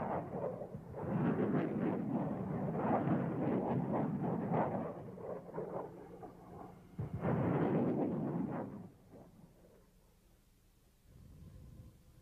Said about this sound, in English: As we see in this test footage, the small submunitions blanket a wide area.